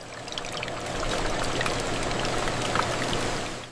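Sweet glaze pours steadily over donuts on a factory line, giving a continuous, fairly loud watery rush with a faint patter of drips throughout.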